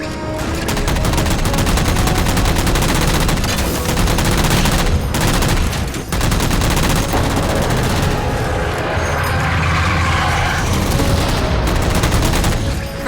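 Dense gunfire in the game Halo 4 as jammers are shot down, a loud, near, unbroken barrage of rapid shots with heavy booms mixed in, lasting throughout with almost no pauses.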